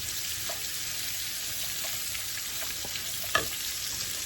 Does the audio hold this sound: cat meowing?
no